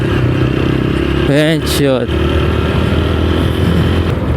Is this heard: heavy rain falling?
no